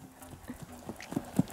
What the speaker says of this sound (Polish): Twój koń się zmienił w Rudolfa